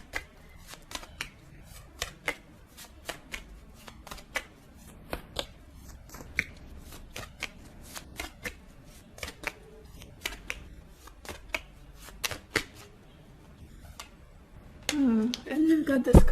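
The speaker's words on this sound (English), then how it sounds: "Let's get one more card from this deck." Tarot cards being shuffled and drawn from a deck, a run of crisp, irregular snaps and flicks repeating close up over quiet room tone, ending in a louder burst of handling.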